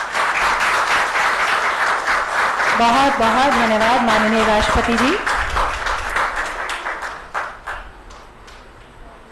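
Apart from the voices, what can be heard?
audience applause at a ceremony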